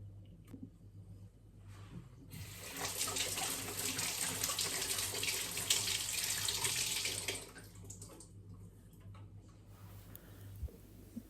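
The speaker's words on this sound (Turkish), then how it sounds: "İyice yıkadıktan sonra tekrar duruluyorum." Lemons are rinsed under a running kitchen tap: a steady hissing stream of water starts after a couple of seconds, runs for about five seconds, then cuts off, leaving a quiet room hum with small handling knocks.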